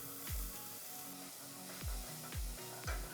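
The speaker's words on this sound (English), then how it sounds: "we are going to seal the meat for about 3 to 4 minutes per side" Beef searing in hot oil in a pan for a Peruvian dry beef dish gives off a steady close sizzle, broken by a few soft knocks and scrapes at irregular intervals.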